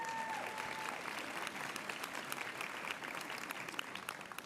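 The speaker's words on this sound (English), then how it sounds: "If you applaud him, he'll become more annoying." Audience applause at a law school oath and pinning ceremony, sustained crisp clapping from a large crowd in a hall, steady throughout, with a brief voice near the start.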